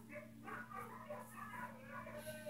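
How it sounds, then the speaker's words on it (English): A dog yelps and whines in quick, repeated bursts, heard faintly and fairly close over a low, steady hum. "Now you look here, Puddles, you gotta quit yelling like this."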